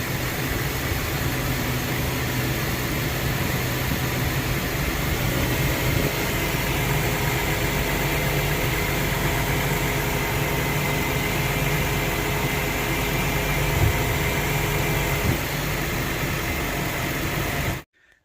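A 2016 Ford Transit's 3.7L engine idles steadily while its coolant bleeds after a water pump replacement, a continuous close hum and whir with no talk, cutting off at the end.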